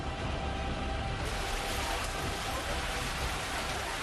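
Steady, continuous rain falls during the Char Dham pilgrimage season in the mountains, an even, dense hiss that fills the whole moment without pause and with no voices.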